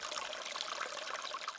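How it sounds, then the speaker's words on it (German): Spring water trickles steadily out of the ground at the protected source of the Eger river in the Fichtelgebirge, a continuous bright, close babble with no voices. "Hier aus der Erde entspringt der Fluss."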